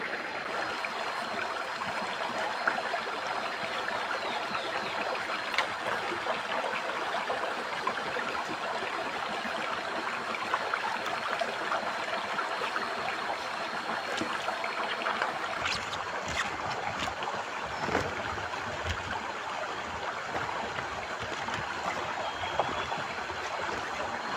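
A forest stream flows steadily beside its bank, a continuous broad rush of water that stays constant throughout with no voices.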